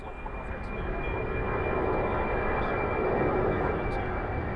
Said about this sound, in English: There's your 47 taking off.